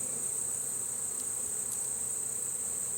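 Honeybees hum in a dense, steady drone inside combined two-frame mating nucs, close and continuous, with a few individual buzzes standing out briefly.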